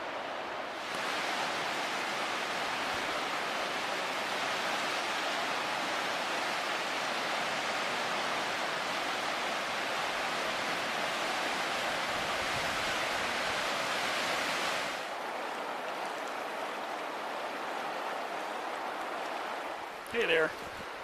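A fast, active river rushes in a steady, loud broadband roar beside a campsite on an April hike near Featherville, continuing unbroken with a slight drop in level near the end.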